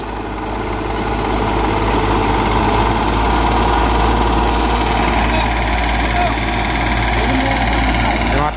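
A heavy construction machine's diesel engine idling steadily during unloading from a truck, a loud continuous low rumble with mechanical vibration throughout, while people talk over it.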